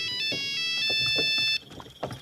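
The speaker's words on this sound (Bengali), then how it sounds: "ফোনটা বেজে ওঠে" A mobile phone ringtone rings inside a car, with bright repeating electronic tones sounding close for about a second and a half before cutting off, leaving light rustling and background noise.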